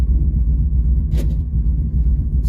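A cold Ford Explorer engine idles close by, a steady low rumble with a brief hiss partway through, running alone without voices.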